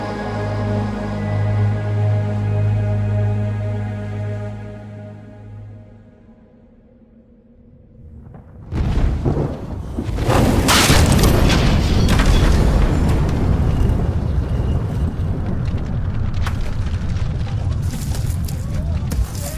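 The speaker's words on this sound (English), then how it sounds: "And the earth quaked, and the rocks were split" A sustained tone fades away, then a deep rumble bursts in with crashing, cracking debris that keeps roaring loudly to the end.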